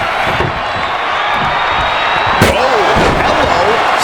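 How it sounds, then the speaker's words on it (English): A wrestler slammed into a door during an intergender match in the WWE 2K25 video game, a sharp impact crack over a constant roaring crowd and commentary voices. "Solid contact with the door."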